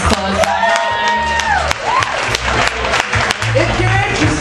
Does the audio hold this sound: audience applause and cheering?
yes